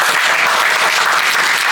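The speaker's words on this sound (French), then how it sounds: "donc on peut les applaudir" Brief, loud burst of audience applause at a seminar closing and award ceremony, many hands clapping in a dense, continuous wash.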